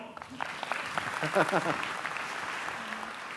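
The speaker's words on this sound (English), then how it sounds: "Give her a round of applause." Audience clapping fills the clip steadily, a dense patter of many hands at moderate volume, with some talking mixed in underneath.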